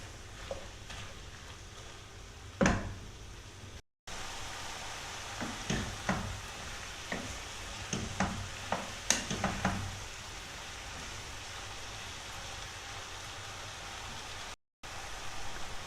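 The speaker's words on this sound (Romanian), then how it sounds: "Amestecăm și lăsăm până ce ceapa se înmoaie, amestecând din când în când." Onions softening in a pan for a chicken and onion stew give a faint, low sizzle. Scattered clicks and scrapes of a spoon stirring sound mostly in the middle stretch.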